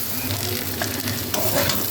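Ingredients for Bengali sweet Basanti pulao sizzle and crackle steadily in a hot pan, a close, continuous frying hiss with a few louder spits and stirring scrapes.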